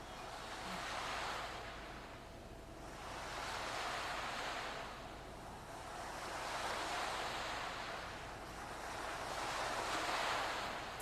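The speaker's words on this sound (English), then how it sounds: "The sound of breaking waves on the seashore." Ocean waves break on a seashore in slow, rolling surges of broadband surf that swell and ebb about every four seconds, with a windy wash between them.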